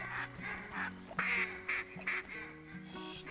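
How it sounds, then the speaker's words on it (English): Dense overlapping quacking from a big flock of ducks in the hunting video game TheHunter Classic, continuous and layered with a busy game soundscape underneath. "That's a big flock of ducks."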